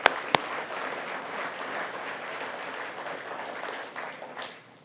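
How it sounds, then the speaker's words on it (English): An audience at the Red Lake Band of Chippewa Indians 2020 State of the Band Address applauds in a steady, dense wash of clapping that holds for several seconds before tapering off, with a couple of sharp clicks at the start. "So let's give everybody a round of applause."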